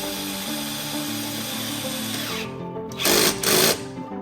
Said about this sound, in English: I can just tighten it with the drill